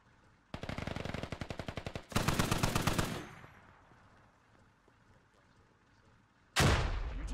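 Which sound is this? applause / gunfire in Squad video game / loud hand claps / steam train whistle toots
gunfire in Squad video game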